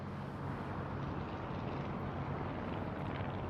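A vintage de Havilland DH-89A Dragon Rapide taking off from grass at a VE Day air show gives a continuous broad engine roar, fairly strong and steady throughout the short stretch, with no talk.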